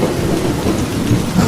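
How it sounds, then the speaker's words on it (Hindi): Heavy rain pours down steadily while low thunder rolls underneath, a dense, continuous storm wash with no voices. "न जाने कब ये बारिश बंद होगी"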